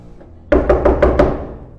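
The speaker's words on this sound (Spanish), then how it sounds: "hay una persona afuera tocando la puerta" Five firm, evenly spaced knocks on a door sound loud and close after a quiet start, each one a hollow thud that rings briefly before the next.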